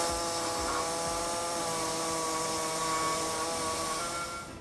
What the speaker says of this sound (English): What I'll be using is a air saw to notch out the sides on the hole there